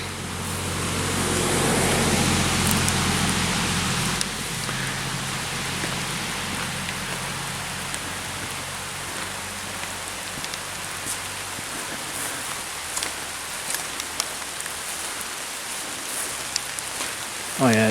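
Heavy rain pours down in a lake state park, a dense hiss that swells loudest early on then settles into steady patter with scattered close drops.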